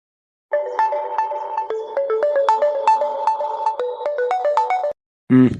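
A melodic electronic ringtone plays a quick repeating tune of bright tones for several seconds, stops, then a short louder burst follows.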